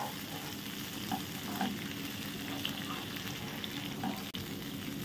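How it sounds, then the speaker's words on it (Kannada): Masala frying in oil over a slow flame, a soft continuous hiss and faint bubbling that stays low and even throughout, with a few small crackles and no speech. "ಸ್ಲೋ ಫ್ಲೇಮಲ್ಲಿ ಚೆನ್ನಾಗಿ ಫ್ರೈ ಮಾಡ್ಕೊಳ್ಬೇಕು ಇದು ಮಸಾಲ"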